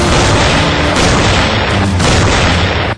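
Bofors howitzer artillery gun firing, a loud, heavy booming roar that rolls on for about three seconds with rumbling aftershocks before cutting off abruptly, no talk over it.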